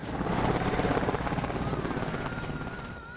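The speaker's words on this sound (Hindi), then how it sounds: "वहाँ पे एयरफोर्स का हेलीकॉप्टर पहुँच के और वहाँ पर फूल की वर्षा हुई है" An Indian Air Force helicopter passes over Nalanda Medical College in Patna during a flower shower, its rotor making a steady, pulsing chop and engine drone that swells and then slowly fades.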